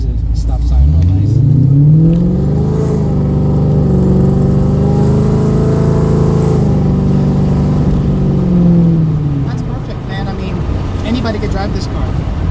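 An 800 hp cammed Coyote-engined Mustang pulls away from a stop, its loud lumpy engine note climbing steadily through the gears, close and continuous, with faint talk beneath.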